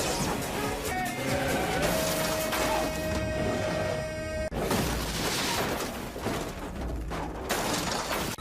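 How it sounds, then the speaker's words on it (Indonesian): A dense, loud crash-and-impact roar from a film car-racing scene, with metallic smashing, engine noise and a sustained tone cutting off abruptly midway before more clattering crash sounds follow. "Raj membalas dendam dan membuat mobil Rusty terpental."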